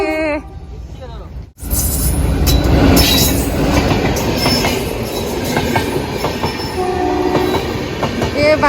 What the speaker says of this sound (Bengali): বাংলাদেশের ট্রেন এটা